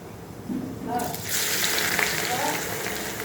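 Chopped onions hit hot oil and begin a steady, bright sizzle about a second in, frying toward dark brown for chicken dum biryani, continuing close and even to the end.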